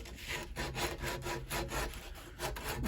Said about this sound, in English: I'm just gonna go ahead and bevel that edge